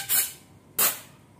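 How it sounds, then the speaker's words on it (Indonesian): Compressed air from an air compressor blasts the blower of a Toyota Corolla Altis car AC in three short, loud hissing bursts separated by brief pauses. "Untuk membersihkan ini, semprot saja blower menggunakan kompresor."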